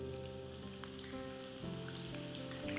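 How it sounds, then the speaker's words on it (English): Sliced onions dropped into hot oil to deep fry for brown onion paste, a soft steady sizzle and crackle running throughout, quiet and even with no voices. "we would quickly add it in hot oil"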